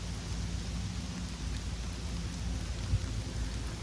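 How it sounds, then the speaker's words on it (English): Steady rain falls across a garden, a dense continuous hiss of drops on the ground and plants, fairly close with no voices. "It's starting to rain."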